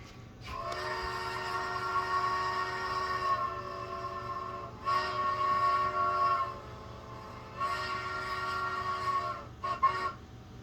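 A train rumbles past with a long sustained horn blast sounding in repeated bursts, loud and close, with no voices.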